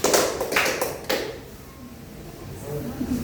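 Classroom clapping game: a few sharp bursts of hand claps from a group at the start, then quieter room noise while a teacher speaks.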